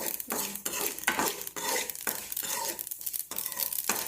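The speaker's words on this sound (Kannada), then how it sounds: "ಎಳ್ಳು ಬೇಗ ಹುರಿತಾವೆ." Sesame seeds dry-roasting in a pan while a spoon stirs them, giving repeated scraping strokes about every half second with a light crackle between them, close and fairly loud, with no talking.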